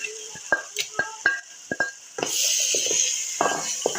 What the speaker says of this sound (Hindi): अभी चम्मच हिलानी है थोड़ी देर ताकि जो तड़का है और साग है ये मिक्स हो जाए।